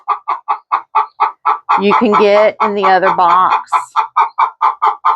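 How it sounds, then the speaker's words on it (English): Backyard hens cluck in a steady, rhythmic series of short calls close to the microphone, while a person speaks over them briefly in the middle. "Chickens."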